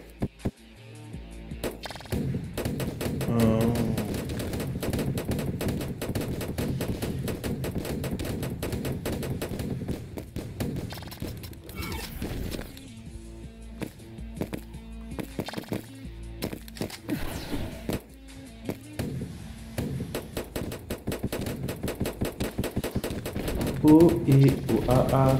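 Rapid, continuous gunfire crackles through the two-player video game Janissary Battles, dense and steady for most of the stretch with brief lulls, while players talk faintly underneath.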